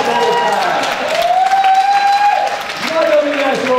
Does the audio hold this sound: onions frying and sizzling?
no